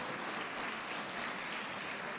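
A church congregation applauds during a sermon, a steady, fairly faint wash of many hands clapping at once with no voices over it.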